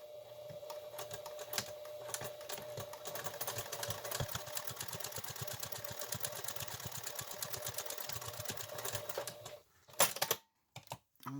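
Sewing machine stitching a fabric face mask without ear loops, with backstitching: a long, faint, even mechanical whir with rapid needle ticking that cuts off near the end, followed by a few bumps.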